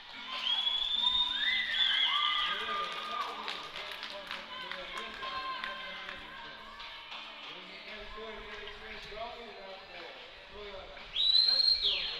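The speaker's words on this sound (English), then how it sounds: "Now we get a whistle, stoppage." A referee's whistle stops play in a U16 girls' ice hockey national championship game. The sharp, shrill blast sounds early and again near the end over arena crowd noise, skate sounds and a commentator talking.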